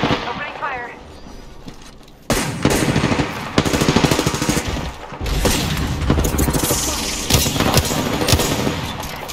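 Gunfire in an online shooter game: rapid machine-gun bursts and heavy booming shots start abruptly after a quieter opening and then hammer on loudly and nearly continuously, close and dense.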